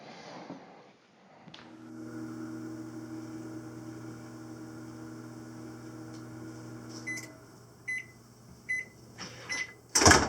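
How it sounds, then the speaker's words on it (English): A microwave oven hums steadily for several seconds while cooking a chocolate mug cake, then a few soft clicks and a sharp closing beep at the end. "I'm going to stick it in my microwave for 1 minute and 40 seconds"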